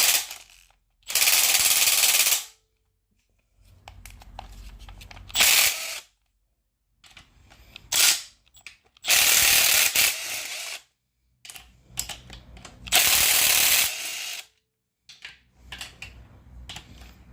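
A ratchet or impact tool rattles out 10 mm bolts from the front cover of a 1000 hp L99 engine in loud, rapid bursts separated by short pauses, several runs in a row; no talking.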